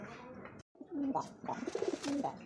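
Racing pigeons coo in soft, repeated throaty calls close to the microphone, with a brief silent gap early on.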